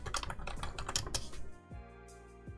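Keys clatter in a quick, uneven burst on a computer keyboard as a command is typed into a Minecraft server console, close and crisp for about a second and a half, then give way to a soft steady hum with one faint click near the end.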